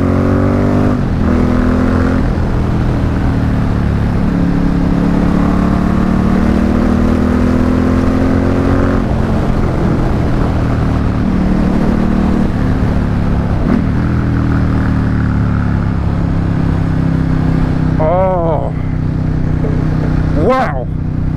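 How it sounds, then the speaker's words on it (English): Ducati X Diavel S motorcycle engine and exhaust running loud and steady on a rough road, with a sharp blip or two near the end; someone talks excitedly over it. "And the noise it makes through this exhaust."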